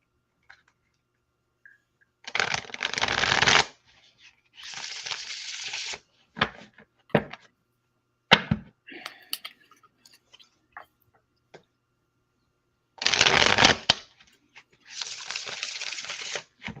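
Deck of playing cards shuffled for a card reading, several bursts of riffling and flicking separated by quiet gaps and a few soft taps, close and clear with no talking.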